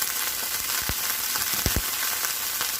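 Steak sears in a hot pan with extra virgin olive oil and a splash of marsala wine for an orange sesame onion pepper stir fry, giving a steady loud sizzle broken by a few sharp pops and spits.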